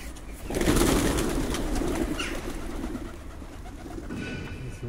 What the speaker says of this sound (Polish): Gołębie z bloków